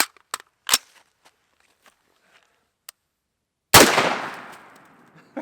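Rifle shots from .223 and ballistic tip rounds striking watermelons: a few sharp, short cracks early on, then one loud close blast at the impact that bursts and trails off over about a second and a half.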